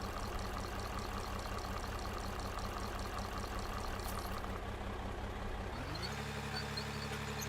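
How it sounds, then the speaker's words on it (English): Bulldozer engine in the video game Out of Ore, a steady loud diesel drone with a rhythmic low chug that drops to a lower, smoother idle near the end, with no talk. "The dozer sound is ASMR?"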